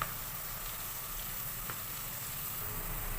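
Chopped onion sizzles steadily in a pan after a sprinkle of salt, a quiet, even frying hiss that carries on unbroken with no voices.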